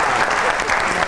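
Studio audience on a television comedy and music show claps in a loud, dense, continuous burst of applause from start to end.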